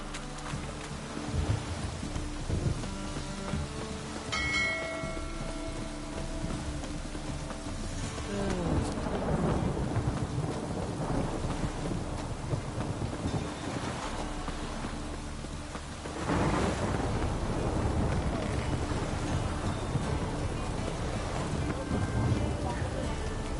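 Steady rain hisses with low thunder rumbling underneath in The Witcher 3, swelling in intensity partway through, faint voices occasionally mixed in.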